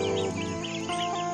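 Village chickens roaming free give short, overlapping clucks close by during early-morning feeding, with a steady murmur of the flock beneath.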